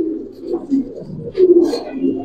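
A released male Giribaz pigeon coos in low, rolling bursts close by, the strongest swell near the middle, with brief higher noises around it.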